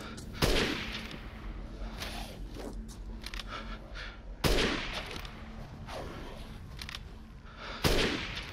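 Gunfire in the Resident Evil Village video game, with three loud, sharp shots spaced a few seconds apart over a constant low ambient hum.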